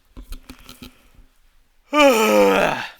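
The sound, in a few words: yawn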